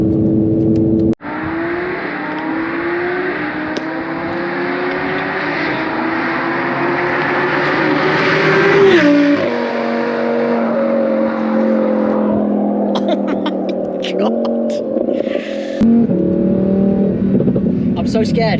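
An Audi R8 V10 Plus fitted with an aftermarket exhaust revs and pulls away loudly and close, its engine note climbing through gears with sharp bursts, a brief lift-off and crackles near the end.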